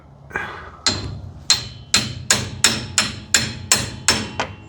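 About ten sharp metallic hammer strikes tap a Rampside U-joint into place through a 1 1/8 socket, evenly paced and close, each blow ringing briefly before the next.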